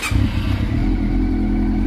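A Honda CB400 four-cylinder motorcycle engine runs steadily after a valve clearance adjustment, a close, even idle hum with a faint high whine and no audible ticking, heard alone throughout.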